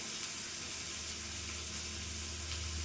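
Potatoes and papaya with salt and turmeric frying in oil, a soft, steady sizzle held at low level with no talking.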